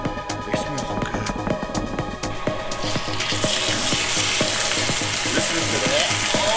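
Sous vide steaks with garlic searing in a hot pan. A loud, steady sizzle and crackle of frying runs throughout and swells louder partway through. Irregular clanks and scraping from the pan sit over the frying.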